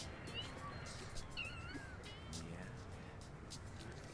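Stray cats meow repeatedly in No More Heroes HD, short rising cries over a steady game background noise, with a voice talking in the mix.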